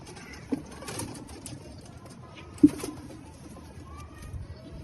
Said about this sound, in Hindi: ये उस्ताद हैदर अली ऑफ जोया ने जो गिफ्ट दिया था हमें कबूतर, ये मेल है।